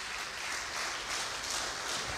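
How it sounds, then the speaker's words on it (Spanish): Soft, even applause from a church congregation, a continuous hiss of many hands clapping at a distance. "Dar un aplauso a Cristo"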